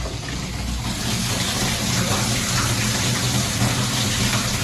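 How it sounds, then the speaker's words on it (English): Water gushing steadily into a storage tank as it fills from a well, a continuous, even splashing flow heard up close with no talk over it. "Hopefully there's enough water in the well for it to fill up and turn itself off when it reaches the this cable, the stat."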